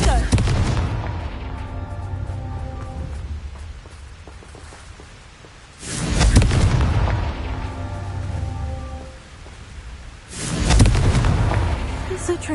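Confringo blasting spell in Hogwarts Legacy, three deep booming explosions spaced several seconds apart, each with a heavy rumbling tail, alongside a spoken spell name.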